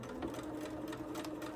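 Sewing machine running steadily while stitching a quilt block, a soft rapid mechanical chatter, close and fairly quiet, with no talk.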